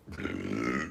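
A single loud, deep, guttural burp from a woman, close to the microphone and lasting nearly a second.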